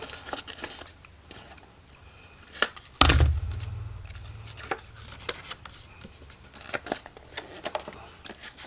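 Scissors snipping through a cardboard file folder, a series of short, close crisp cuts with a louder rustle as the cut piece comes away, in an otherwise quiet room.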